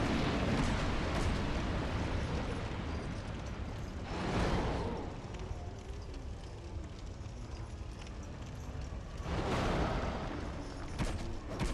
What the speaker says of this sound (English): That's an explosion he'll try and hit you with.